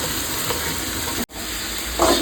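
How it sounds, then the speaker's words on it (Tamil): Shredded cabbage sautés in a pan for a Tamil cabbage kootu, giving a steady, close sizzle with a brief stirring scrape near the end. "இப்போ இந்த கோஸ் வந்து சிம்ல வச்சு இன்னும் கொஞ்சம் நல்லா வதங்கி வரணும்"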